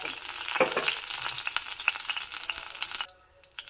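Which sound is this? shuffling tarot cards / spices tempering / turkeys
spices tempering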